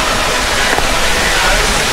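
Lucio Falls, a waterfall in a forested descent reached by stairs, roars with a loud, steady broadband rush of falling water that fills the whole moment, heard close with no pauses.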